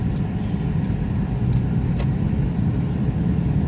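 A 2001 first-generation Honda CR-V cruises along a road, heard from inside as a steady low engine and tire rumble with faint road noise, no talking.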